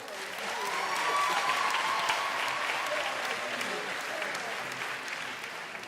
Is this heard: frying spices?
no